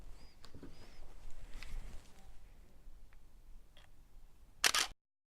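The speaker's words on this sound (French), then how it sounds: "Je vais prendre une photo où je vais faire exprès de faire rentrer trop de lumière dans ma photo." A single-lens reflex camera shutter fires once near the end, a short sharp mechanical click standing out clearly against a quiet, faintly noisy room.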